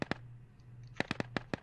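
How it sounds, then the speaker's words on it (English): Gunshots in the tactical shooter Ground Branch, coming from inside a nearby building during a team match: sharp, fairly distant cracks, two early then a quick irregular volley of about six, over a low steady hum. "I can hear these shots."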